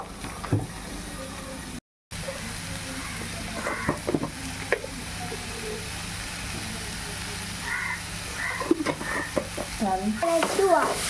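Onions sauté with salt in a pan, a soft sizzle running throughout while a spatula scrapes and knocks at irregular moments, with a brief dropout early and occasional background noise.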